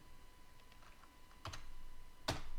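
Computer keyboard typing, a few light clicks and then two sharper key strikes, close and fairly quiet over a faint steady hum, no talking.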